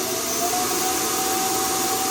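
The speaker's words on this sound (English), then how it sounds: "that powerful vacuum is going to make a world of difference" An ILIFE T10s robot vacuum and mop runs with a loud, steady whooshing whir and a thin high whine on top, constant and close, with no voices.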